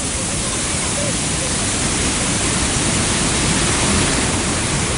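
River flood waves released from the Tenughat dam rush in a steady, loud, unbroken roar throughout.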